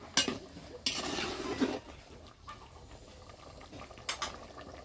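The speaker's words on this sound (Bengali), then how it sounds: "লাউগুলোকে ভালো করে নাড়ে দিচ্ছি, তার কারণ লাউয়ের ঝোল একটু কমাইতে চাচ্ছি" Bottle gourd curry stirred in a pan, with a few sharp scrapes and clinks of the utensil against the metal over a soft simmering hiss, close by, without talking.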